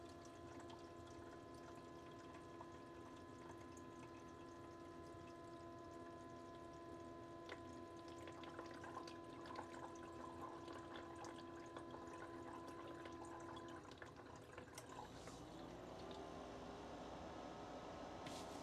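A countertop ice maker runs with a quiet, steady mechanical hum, a faint whirring fan motor and soft watery trickling, continuous throughout, then a slight shift in tone near the end.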